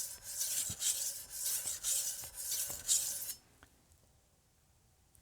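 A Wusthof Classic chef's knife is drawn across a whetstone in a rhythmic series of raspy, gritty strokes, about six passes up close, then the grinding stops and only faint quiet remains.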